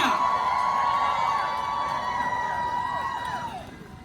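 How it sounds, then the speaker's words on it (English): A large crowd at the 2020 Women's March on Philadelphia cheers and whoops for the organizers, with high voices rising and falling over a steady roar that fades toward the end. "Please give a round of applause for the organizers of the Women's March"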